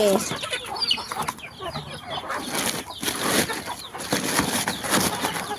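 Several chickens cluck in a busy, overlapping chorus close by, with scattered squawks and rustling and no clear gaps.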